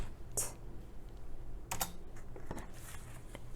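An old computer keyboard is typed on, giving a few scattered, faint key clicks at a slow, hesitant pace over quiet room noise.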